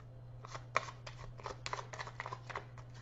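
Tarot cards being shuffled by hand, a quiet run of short papery riffles and snaps in a soft rhythm, close and alone.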